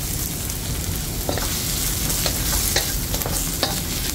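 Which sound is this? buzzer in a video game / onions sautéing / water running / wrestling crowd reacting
onions sautéing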